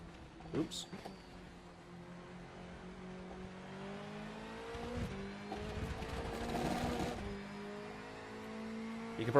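A front-wheel drive touring car driven hard on the Top Gear test track, its engine note climbing and falling through gear changes, fairly faint and distant in the mix.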